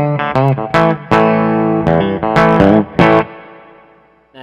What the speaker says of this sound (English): So here is the clean tone of my amp with my Johnny Hiland JH6 Kiesel guitar, and it sounds like this.